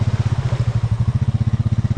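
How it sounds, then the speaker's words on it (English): A Honda Rancher 420 ATV engine pulses in a steady, fast throb up close while its tires spin in mud, the chugging loud and unbroken throughout. "I can feel the tires spinning."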